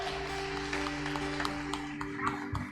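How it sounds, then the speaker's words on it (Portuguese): A church congregation claps for the Lord during a Portuguese-language service, a faint, diffuse patter of many hands beneath a steady electrical hum. "Palmas ao Senhor."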